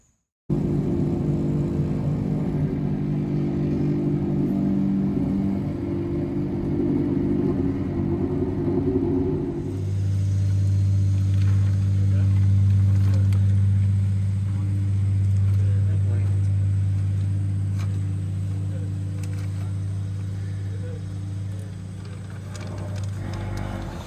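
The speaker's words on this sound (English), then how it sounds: "concrete truck is back for the pour" A concrete truck arrives for a slab pour at a house addition build site, its heavy diesel engine rumbling steadily and loudly, with the engine note shifting partway through.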